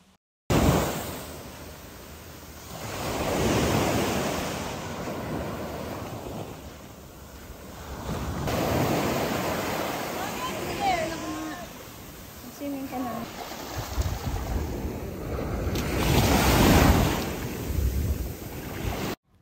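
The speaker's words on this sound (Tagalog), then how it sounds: "Malalakas yung mga hampas ng alon" Waves roll in and break on a La Union beach in slow, strong surges, with wind buffeting the microphone and faint voices between swells.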